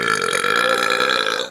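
A person lets out a long, loud, sustained belch lasting about a second and a half, close up and alone, rough and droning before it cuts off abruptly.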